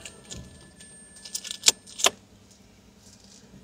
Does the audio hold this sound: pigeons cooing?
no